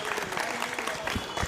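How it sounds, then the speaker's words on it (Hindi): Crowd applauding at an election rally after a win, a brief burst of dense, loud clapping from a large gathering. "एक बार जोरदार तालियां"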